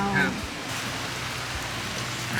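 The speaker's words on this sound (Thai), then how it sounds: "วันนี้ฝนตก" Steady rain falls all day over a fishing-pond restaurant in Saraphi, making an even, dense hiss of drops on surfaces that stays constant and fairly close throughout.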